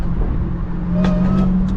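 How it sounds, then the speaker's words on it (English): A car engine revs and accelerates during a spirited road drive, a strong steady drone with a few sharp exhaust pops crackling over it, loud and close. "Race car, damn, them pops."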